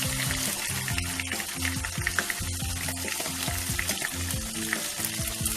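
Vegetable tempura with leaves and purple flowers frying in hot oil, a loud dense sizzle with bubbling crackle running throughout, no talking.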